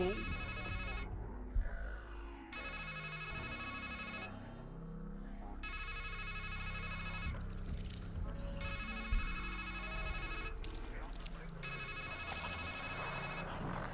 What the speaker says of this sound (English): Goddamn ringtone going off at all times.